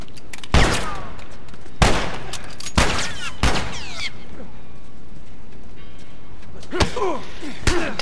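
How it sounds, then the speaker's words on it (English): Several loud, sharp gunshots from The Last of Us Remastered crack out in scattered bursts, two close together early, then a few isolated shots, and another quick pair near the end. "Where is he shooting me from?"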